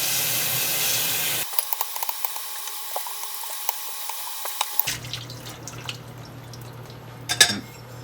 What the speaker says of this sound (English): Gonna rinse it really well with hot water.